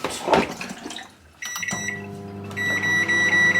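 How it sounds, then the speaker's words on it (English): A microwave oven hums steadily after a door clunk and button beeps, with a continuous electrical drone and a faint high whine, close by. "excuse the microwave"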